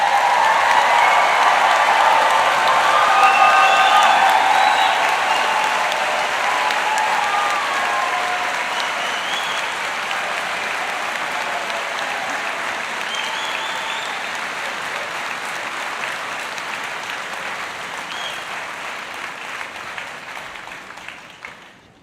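A large commencement crowd applauds new graduates, a long, steady roar of clapping with scattered cheers that swells early and slowly tapers off over about twenty seconds.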